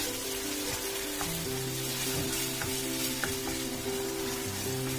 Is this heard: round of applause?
no